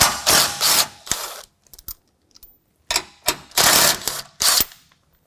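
A ratchet works body mount bolts loose on a Jeep JL, sharp rapid clicking bursts close by, separated by brief pauses and a few light metallic taps.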